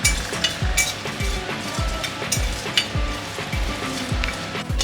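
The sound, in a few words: whole biryani spices dry-frying in a hot wok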